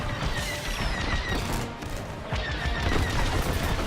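Turrets in a space video game fire dense, rapid bursts, a continuous crackling barrage with booms and metallic clatter that stays loud throughout.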